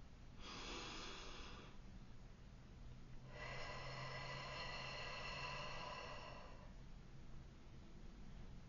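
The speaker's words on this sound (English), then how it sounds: "so take a deep breath with me" Someone draws one deep breath in and lets it out, close and alone: a short airy inhale is followed, after a pause, by a longer audible exhale.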